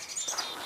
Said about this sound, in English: Chickadee is right near me.